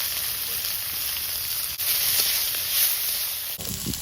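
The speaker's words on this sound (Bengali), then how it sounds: "তেলের মধ্যে শুকনো লঙ্কা, গোটা জিরে, আদা রসুন কোড়া, পেঁয়াজ কুচি, চেরা কাঁচা লঙ্কা" Dried chili, whole cumin, crushed ginger and garlic, chopped onion, slit green chili and tomato fry in oil in a kadai, a steady close hissing sizzle with a brief clatter near the end and no talking.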